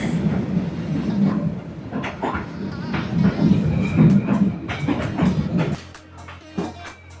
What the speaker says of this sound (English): street food and trains thundering inches away from our table